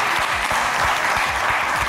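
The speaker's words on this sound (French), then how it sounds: "C'était donc le candidat numéro 3 et on l'applaudit très très fort" Audience on a French televised talent show applauds candidate number 3, a dense, steady wash of clapping filling the whole stretch at close range.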